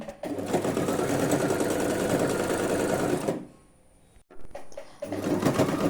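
A sewing machine top-stitches a pleated nighty with a fast, steady mechanical whir. It stops for about two seconds and then starts up again close by.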